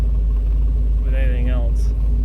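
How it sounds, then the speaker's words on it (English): An old Chevy truck creeps along in its lowest granny gear, a constant deep engine rumble and drone carrying a hay load slowly, with a voice speaking briefly over it midway. "Good thing this old Chevy has a granny gear."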